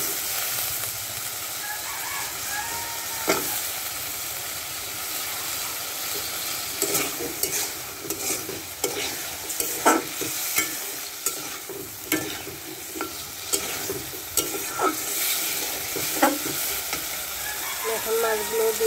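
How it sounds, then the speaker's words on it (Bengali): Washed new potatoes, freshly dug from the field, frying in a pan with fish to come, a continuous hiss of sizzling oil broken by repeated scraping stirs, close and steady with a rooster crowing faintly in the background. "আলুগুলো ধুয়ে রাখা আলুগুলো এর মধ্যে দিয়ে দিলাম"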